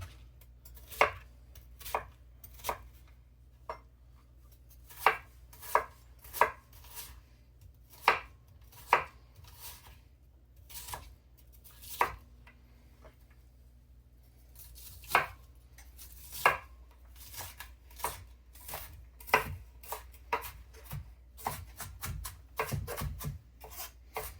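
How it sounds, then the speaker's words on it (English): A small onion is chopped with a knife on a cutting board, steady close knocks of the blade at an irregular pace, some strokes heavier, the last stretch turning into a rapid run of chops over a low background hum. "Cut up this small onion."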